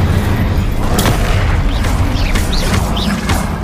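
Spellcasting and combat in the Hogwarts Legacy game as an Incendio fire spell goes off: loud booming blasts and crackling bursts with whooshing magical effects, dense and continuous, mixed with faint shouted voices.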